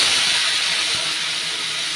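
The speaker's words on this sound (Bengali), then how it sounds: "এখন দিয়ে দেবো গরম জল" Hot water hits a pan of fried spice mixture with garlic, giving a steady bright hiss that is fairly soft and continuous, fading slightly toward the end.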